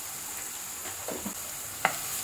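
Chopped onion with a little salt being fried until reddish in a pan for a green moong and spinach dish, heard as a steady, soft sizzle with a brief stirring scrape and a small clink, no talk.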